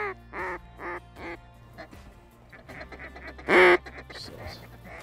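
Mallard ducks quack repeatedly in a November field in northern South Dakota, loud bursts of quacking coming in rhythmic groups as a new flock arrives, with a very loud close call near the end.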